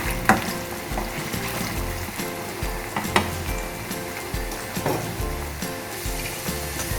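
Potatoes frying in hot oil, a steady close sizzle with crackling bubbles and a few sharp pops scattered throughout, no voices.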